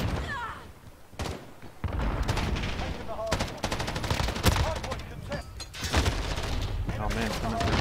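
Rapid machine-gun bursts and overlapping gunshots in a Call of Duty: Modern Warfare match with a Bruen loadout, dense and loud, running almost continuously with brief gaps.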